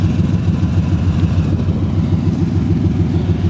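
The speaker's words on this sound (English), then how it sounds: "Side pipes really set off the sound in this car." A 1972 Corvette with a matching-numbers 350 V8, four-speed and side pipes, idling with a deep, loud, steady burbling exhaust pulse throughout and no talk.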